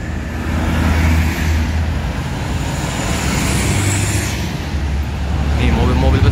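Steady traffic noise outside a busy bus ticket office and parking area, with large vehicles and cars rumbling past close by in a continuous loud wash. Someone talks now and then over the roar.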